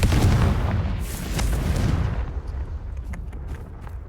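Confringo fire spell explosion in Hogwarts Legacy, a loud booming blast that rolls out and decays over a few seconds, with faint crackles trailing after.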